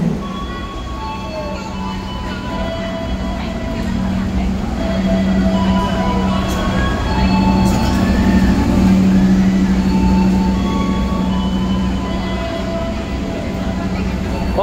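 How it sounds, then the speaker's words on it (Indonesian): The Airlangga economy-class passenger train pulls into platform 4 at a station with a steady rumbling roll and a sustained hum, loud and close, while a station announcement and voices carry over it. "kereta api Airlangga sudah masuk di jalur 4"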